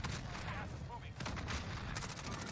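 Gunfire rattles in a Warzone match: repeated shots crack in quick succession at moderate loudness, mixed with game noise and a player talking.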